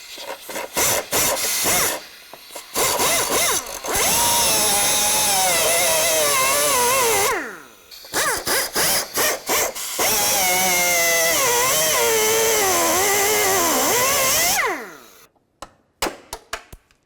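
A power tool cuts through a stuck door pin bushing on a 2006-2012 Ford Fusion door, running in long loud bursts with whining pitch changes and short pauses between cuts.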